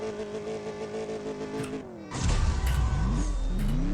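A race car engine revs during a CSR2 drag race in a mobile video game, the steady harmonic drone building through gear shifts before a louder, rougher roar takes over with sweeping pitch changes.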